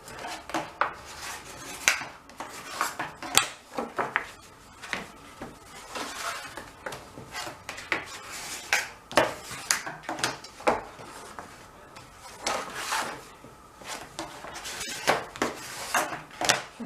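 A thumb rubbing along folded paper card to crease the folds of a card box, heard as soft, dry scraping and rustling strokes with small taps, close and fairly quiet, no talking.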